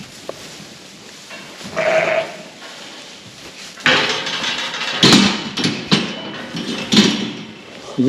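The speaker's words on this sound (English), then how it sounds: "This is one of the better rams." Rams in a livestock pen bleat loudly and repeatedly, one call standing out early and a busier cluster of overlapping bleats following, mixed with clanking knocks from handling gear nearby.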